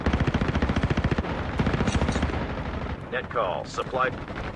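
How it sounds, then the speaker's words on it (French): Gunfire coming from all sides in a video game: rapid loud machine-gun bursts up close, then scattered shots and whooshing effects, with a person talking in the background. "ça tire de partout"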